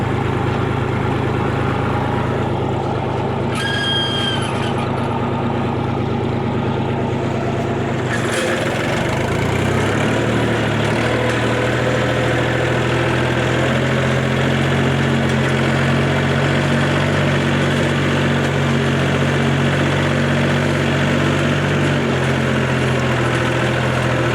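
A tractor works a dry, dusty field, its engine droning loud and steady throughout, with a faint brief squeak partway through.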